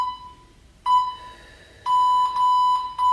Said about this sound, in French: Le bip.